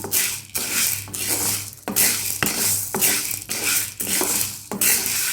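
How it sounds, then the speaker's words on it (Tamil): Green gram (moong) dry roasting in a pan over a low flame with no oil, for laddu: close, rhythmic scraping and rattling as the grains are stirred in about eight even strokes, with no talking. "அதனால் சிம்மிலே வச்சு வறுத்து எடுத்துக்கலாம்"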